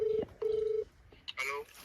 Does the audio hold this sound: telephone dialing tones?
yes